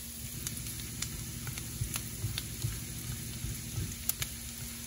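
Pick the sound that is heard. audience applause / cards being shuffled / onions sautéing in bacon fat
onions sautéing in bacon fat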